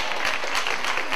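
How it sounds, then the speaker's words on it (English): Church congregation clapping hands together in a steady, loud, continuous burst of applause filling the sanctuary. "If you're glad to be in the house of the Lord, clap your hands"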